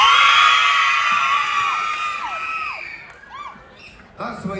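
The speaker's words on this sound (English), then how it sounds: "We'd like all the kids to give us a big scream after 3." Audience of children at a Lennon and McCartney tribute show letting out a loud, sustained high-pitched scream that slowly fades, followed by scattered whoops and cheers.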